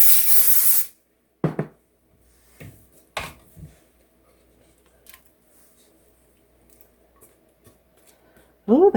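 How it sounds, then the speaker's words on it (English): Cooking spray hisses into a 9x13 baking dish in one loud burst, followed by quiet kitchen handling sounds, a few clicks and knocks, and a short spray at the very end. "We want to spray it really good."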